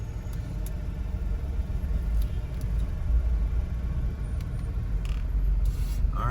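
Steady low rumble of road traffic in Montego Bay, Western Jamaica, cars and buses moving at close range as vehicles cut into the line, with faint hiss and occasional brief higher noises over a constant engine drone.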